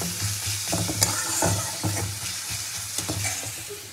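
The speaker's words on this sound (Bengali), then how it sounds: "এবার উল্টে পাল্টে পেঁয়াজটাও খুব ভালো করে ভেজে তুলে নেবো" Onions fry in a pan for an ilish fish tail bharta, sizzling steadily with repeated stirring scrapes and taps as they are tossed, close and fairly loud with no talk.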